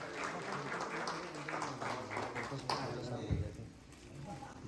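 An audience at a dealer meet in a Hyatt hotel ballroom in Gurugram claps in a dense, sustained burst of applause that thins toward the end, with voices mixed in.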